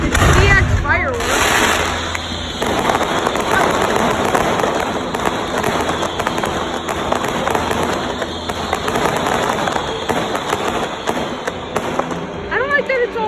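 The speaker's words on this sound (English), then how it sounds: "It's like DX fireworks." Fireworks at a minor league baseball outing: a continuous volley of crackling pops and booming bursts for over thirteen seconds, loud and dense, with voices of a crowd talking underneath.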